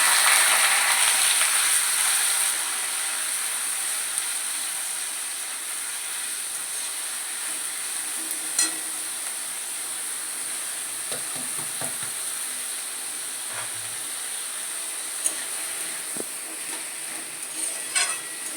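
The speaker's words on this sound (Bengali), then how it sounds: "এদিকে লাউয়ের চোচা ভাজা হচ্ছে" Bottle gourd peels frying in a pan, a continuous soft sizzle with occasional stirring clinks and scrapes, fairly faint and with no talk over it.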